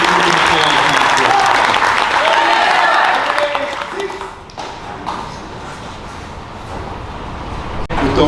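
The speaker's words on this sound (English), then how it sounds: "give them a round of applause" An audience at a police department junior academy event claps in sustained applause, dense and loud at first, then thinning into scattered claps and murmurs.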